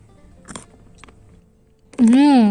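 Two crisp, close bites into a crunchy purple sweet potato tapioca cookie, followed by a loud voice humming or speaking.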